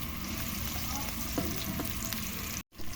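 Aromatics sizzle steadily in hot oil in a wok, being sautéed before mussels with malunggay go in; a continuous close frying hiss with light stirring, briefly cutting out near the end.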